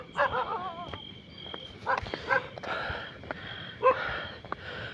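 Dogs bark outdoors in a few short, spaced bursts, with some whiny yips between them over a faint background hum.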